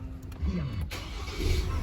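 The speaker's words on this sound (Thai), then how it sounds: "เครื่องยนต์ก็จะสตาร์ทติดนะครับ" A 2024 Ford Ranger Next Gen pickup engine cranks from a push-button start and catches, then settles into a steady low idle, close by, with a faint voice underneath.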